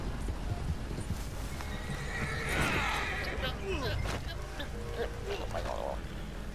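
A horse in the video game Red Dead clip-clops and whinnies nearby, its hoofbeats and a drawn-out neigh mixed with game ambience while people talk over it.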